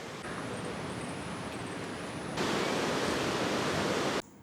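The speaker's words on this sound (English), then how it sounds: "Now I'm just by the cliff and just watching the waves crash." Ocean waves crashing below a cliff on a gloomy day by the water in India, a steady broadband roar that swells louder midway, with no voices.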